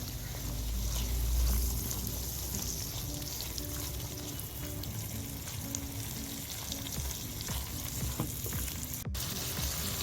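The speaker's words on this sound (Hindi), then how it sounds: "ये प्याज जो फ्राई करके रखी थी, अच्छी तरह से सॉफ्ट करके रखी थी, वो डाल दीजिए और इसके साथ इसको 4-5 मिनट अच्छी तरह से इसकी भुनाई कर लीजिए।" Fried onions sautéing with taro root and drumstick in a pan give a steady, close sizzle and frying crackle with soft stirring scrapes, continuous for the whole stretch with no talking.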